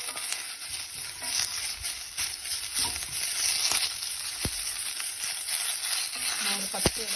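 Ajwain (karpooravalli) leaves sauté lightly in a pan for chutney, producing a steady soft sizzle with scattered clicks and taps of stirring over several seconds.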